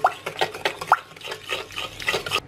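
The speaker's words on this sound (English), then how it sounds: "Give it a stir through" Spoon stirring vanilla through a sugar mixture in a bowl for chocolate chip cookie dough, a close series of soft scraping strokes in a steady rhythm, with no talking.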